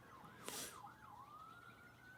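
A faint, distant siren wails and rises, with a brief sharp noise near the start.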